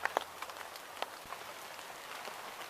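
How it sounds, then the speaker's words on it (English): Rain patters on the fronds of a sabal palm in a swamp, a soft continuous hiss broken by scattered sharper drips, quiet and close with no voices. "A nice sable palm keeping me dry as the rain falls."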